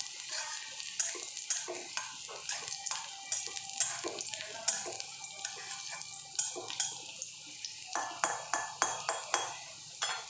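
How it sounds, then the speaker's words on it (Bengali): Chopped garlic and ginger fry in a pan while being stirred, soft scraping strokes and light crackling coming in repeated bursts, close and fairly quiet. "এটাকে একটু ভালো করে নেড়ে নেব।"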